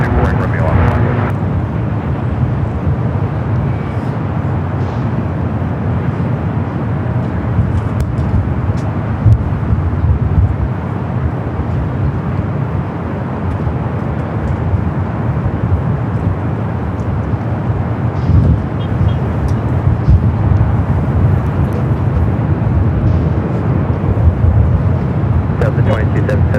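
A United Boeing Dreamliner airliner rolls down the runway at Los Angeles International Airport, its engines giving a steady, loud broadband roar that holds for the whole stretch, with radio voices talking over it.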